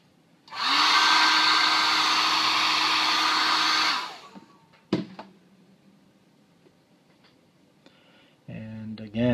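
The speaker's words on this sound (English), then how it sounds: "So let me dry this off completely with the hairdryer." A hairdryer blasts loudly for about three and a half seconds to dry paint on a Reaper Bones ogre miniature, then cuts off, followed by a few small knocks and handling noises.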